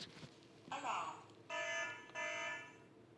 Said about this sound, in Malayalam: ഇപ്പം ഇങ്ങനെ ഒരു അലാം വരുന്ന സമയത്ത് ഇത് നമ്മുടെ വീട്ടിലാണ് കിടന്ന് അടിച്ചുകൊണ്ടിരിക്കുന്നത്.